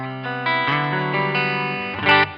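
An electric guitar played through a NUX amp modeler scene with damp reverb rings out in sustained, shifting chords with a processed, effected tone, heard alone and fairly loud for a couple of seconds.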